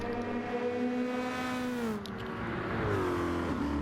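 The number 10 race car in a circuit race, its engine a loud, continuous high-revving drone whose pitch sags briefly and then climbs again as it accelerates.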